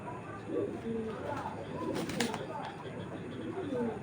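Pigeons, including a female Dobas pigeon, coo softly in a loft, low throaty calls mixed with faint chirps under someone talking nearby.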